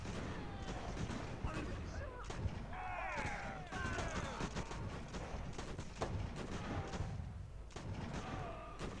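A broadside from sailing-ship cannons in Ultimate Admiral: Age of Sail: repeated thumping booms roll through a noisy battle, and a voice talks throughout.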